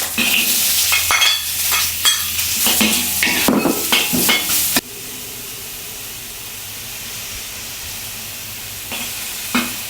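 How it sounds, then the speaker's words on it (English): Carrot is stir-fried in hot oil in a wok, with loud sizzling and scraping stirs in quick bursts for several seconds, then a softer steady hiss of frying with a faint clink near the end; no one talks. "Stir fry the carrot"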